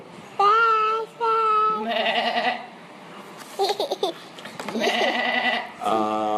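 A voice makes a series of wavering, bleating cries imitating a goat, several short bursts separated by brief pauses.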